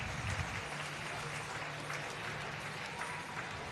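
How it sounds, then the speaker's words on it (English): Hockey fans at a game clapping and cheering, a dense, continuous wash of crowd applause and voices filling an arena, loud and steady throughout. "you can hear the fans here clapping and cheering on their teams here"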